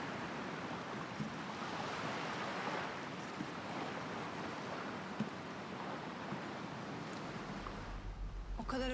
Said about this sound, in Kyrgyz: Суунун шырылдаган үнүн уксаң